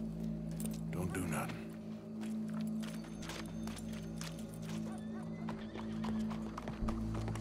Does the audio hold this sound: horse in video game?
yes